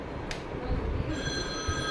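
A telephone rings faintly indoors during a family's midnight birthday celebration at home. Thin ringing tones rise over a muffled bed of room noise and low rumble, with no talking.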